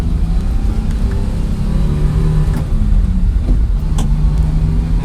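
A 1987 Daihatsu 4x4 Japanese mini truck driving, its small engine giving a steady low drone with road rumble, close and continuous throughout, no speech.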